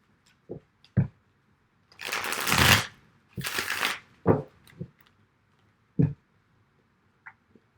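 Tarot cards are shuffled in two longer riffling bursts, framed by scattered taps and soft knocks of the deck being handled.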